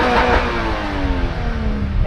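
Exhaust of a 2022 Toyota GR86 heard from outside: a loud, close engine note with clear tonal harmonics that slide downward in pitch as the car pulls away.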